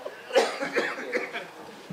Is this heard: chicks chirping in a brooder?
no